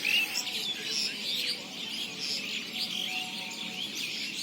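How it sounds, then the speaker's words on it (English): An Oriental magpie-robin sings in a park in Bogura, Bangladesh, a steady stream of bright whistled phrases and chirps, fairly close and continuous over soft outdoor ambience, with no talk. "This is our national bird. His name is Doel."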